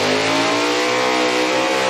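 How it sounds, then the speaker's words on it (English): A 327 V8 in a show car at Summernats revs hard and steadily for the full two seconds, a loud, continuous, dense engine roar close by with no pauses and no talk. "That is one strong sounding 327"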